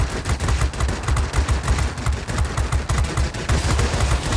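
Sustained machine gun fire from an IL-1 warplane in the World of Warplanes video game, rapid evenly spaced loud shots rattling continuously without a break.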